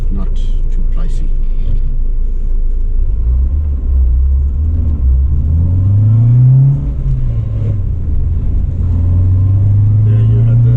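A Renault Clio Sport 182 hot hatch accelerates hard with a loud, close engine drone that climbs in pitch, dips briefly at the shift into second gear, then pulls again under steady rumble.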